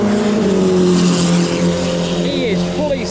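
A race car drives down the pit lane at a track, its engine loud and close with harmonic tones gliding down as it passes, then a brief rising rev toward the end, with no speech.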